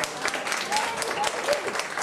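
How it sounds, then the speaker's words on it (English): A live audience applauds for Isaac at a testimony event, a dense wash of many hands clapping steadily for about two seconds, fairly close, with no voices over it. "everybody give Isaac a big hand clap"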